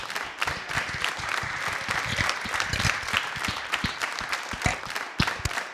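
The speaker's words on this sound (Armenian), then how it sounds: "Ծափար ենք եւս մեկ անգամ շատ բարձր" Studio audience applause at a television talk show, with brisk, moderately loud clapping and individual sharp claps standing out throughout, no speech over it.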